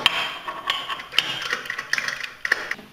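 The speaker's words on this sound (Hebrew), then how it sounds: "פשוט פותחים את הבורג," Wrench turning the fixing nut on a wall-hung toilet, a series of close metallic ratcheting clicks and taps in irregular rhythm, with no talk.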